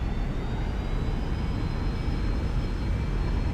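Boeing 737 engines spool to takeoff power in X-Plane 11, a loud, steady broadband roar with a faint high whine, continuous and without talk.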